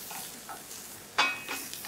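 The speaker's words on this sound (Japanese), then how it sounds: "まずベーコンをカリカリに焼き上げます。" Bacon crisping in a pan for couscous risotto, a soft low sizzle broken by a sharp utensil scrape and a few light stirring clinks.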